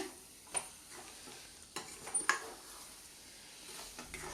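Tamarind leaves and egg being stirred and fried in a pan: a steady close sizzle with scattered scraping stirs and a few sharper clicks of the utensil, no talking.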